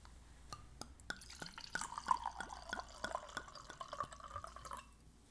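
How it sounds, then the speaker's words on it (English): A drink poured into a glass, a faint stream of splashing and dripping with small clinks running for about five seconds, alone without talk. "DJ's gonna give us the good old pour"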